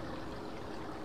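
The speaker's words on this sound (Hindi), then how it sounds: "पानी का बहाव इस साइड जा रहा है ना" Flowing water from a stream in the Evil Nun horror video game, a faint, steady rushing wash heard continuously with no talking.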